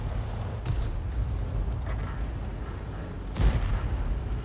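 Main gun of a Skoda T56 tank firing double shots in a World of Tanks-style battle game, with sharp booms over a constant rumbling battlefield background and one stronger blast near the end.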